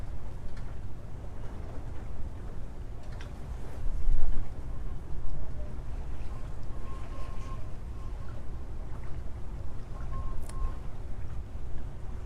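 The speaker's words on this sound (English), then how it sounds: "Here on the boat, we have the sounds of the water" Water lapping and washing around a moving boat, a steady broadband wash with low rumble and wind, one brief swell near the middle, continuous and without speech.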